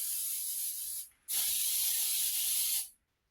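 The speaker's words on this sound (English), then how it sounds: "We always want to spray." Cooking spray hisses onto a baking pan in two bursts, a short one and then a longer steady one, close and clear with no talking.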